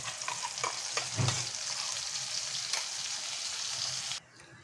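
Spice masala frying in oil in a pan while being stirred, a continuous close sizzle with scattered scraping and a dull knock, cutting off abruptly near the end.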